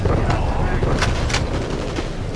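Gunfire in the video game Call of Duty: Roads to Victory, a dense stream of shots and explosion-like bursts over a loud, steady battle din, with a voice talking over it.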